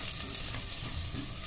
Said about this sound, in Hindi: इसी समय हम डाल देंगे इसमें ये हमारे मसाले और इनको अच्छे से मिक्स करेंगे